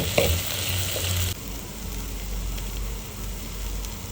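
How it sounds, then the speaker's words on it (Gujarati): A spiced vegetable curry with chaat masala, coriander-cumin powder and Kashmiri red chili powder is stirred in a pan, giving a steady close sizzle and frying hiss with scraping at the start that settles into a softer, even simmer. "ત્યારબાદ આ બધી જ વસ્તુને સરસ રીતે મિક્સ કરીને આપણે ફરી પાછી પાકવા દેશું"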